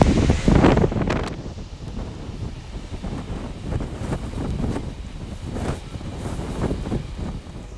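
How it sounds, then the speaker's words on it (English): Strong gusty wind at a glacier in Iceland buffeting the microphone, loud roaring surges rising and falling throughout with no voices. "Just a tad windy."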